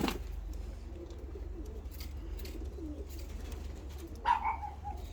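Pigeons coo softly in a quiet indoor space, with a low steady hum underneath and a clearer, closer coo standing out toward the end.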